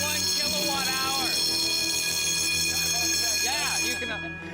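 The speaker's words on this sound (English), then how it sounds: "the alarm works" An electronic alarm sounds continuously during a test, a steady high-pitched tone held throughout, while voices talk over it in short bursts.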